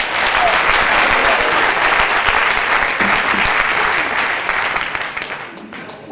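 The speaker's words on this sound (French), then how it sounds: "vos applaudissements aussi enthousiastes que spontanés" Dense, sustained applause from a concert audience at a show in Chaumont, loud and steady for several seconds before tapering off near the end, with some voices mixed into the clapping.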